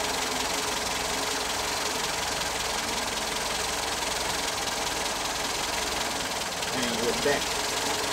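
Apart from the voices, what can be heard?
Toyota 4K engine idling while idle mixture is adjusted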